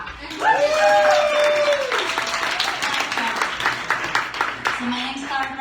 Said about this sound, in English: Let's give Marcos a big clap.